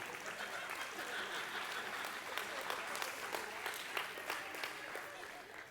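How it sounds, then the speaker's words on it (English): An audience at a church-style gathering applauds steadily, a dense, fairly faint clapping that continues throughout with a few louder claps, while murmured talk sits beneath it. "These people, they deserve the applause that you gave them."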